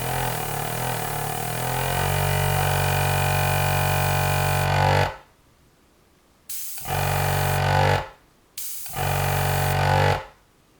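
A Fengda mini airbrush compressor pumps air with a steady, loud hum that cuts out abruptly, then restarts and stops in several short cycles as the trigger is pressed and released.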